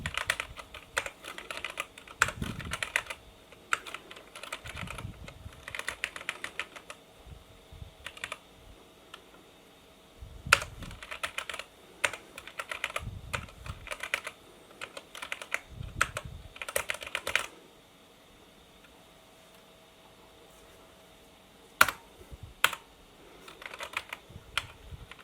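Bursts of clacking keystrokes come from a Cherry G80 keyboard connected to a 486 computer, typed close up in uneven runs separated by pauses, including a long quiet stretch before a few final taps.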